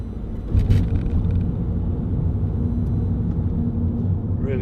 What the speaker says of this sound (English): Really good diesel engine, which again, in my opinion, you can't beat.